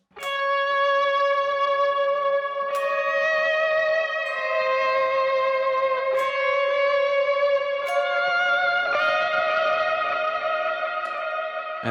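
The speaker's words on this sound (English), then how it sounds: "And then we're going into the first chorus, which is those swells, which sounds like this." Electric guitar volume swells through effects with echo and reverb, playing a worship song chorus: smooth sustained chords fading in and changing every few seconds, full and close with no voice.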